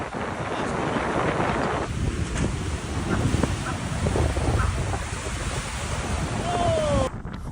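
Ocean waves crash and roar continuously against the shore, heavy surf mixed with gusty wind buffeting the microphone.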